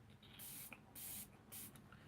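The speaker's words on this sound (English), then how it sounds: "I'm going to be using the Maybelline Lasting Fix setting spray" Maybelline Lasting Fix setting spray is misted in three short, even hissing bursts, close and quiet, with brief pauses between them and no talking.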